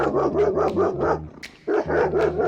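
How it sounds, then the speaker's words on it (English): A German Shepherd with strong reactivity barks in a rapid series of loud, close, deep woofs, pausing briefly before a fresh burst; no one speaks. "This is the story of Storm, super reactive German Shepherd"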